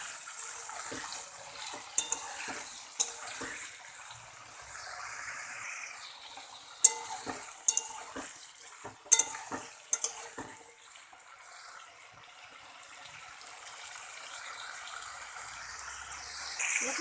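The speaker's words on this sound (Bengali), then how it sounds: "এবার কেটে রাখা আলুটা দিয়ে দেব।" Cut potatoes frying with neem leaves in a wok, a soft hissing sizzle with intermittent clanks and scraping of a utensil against the pan, moderate and close, no voices.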